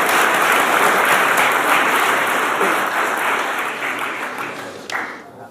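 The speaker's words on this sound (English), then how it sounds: "Please join me in a nice round of applause for them." A reception audience at an Atlanta sister-city 40th anniversary event applauds in a loud, dense wash of clapping that fades toward the end, with a sharp clink near the close.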